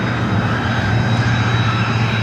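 A Beechcraft Premier jet at San Diego airport gives a loud, steady engine roar and rumble with a constant high whine, heard close and without pause.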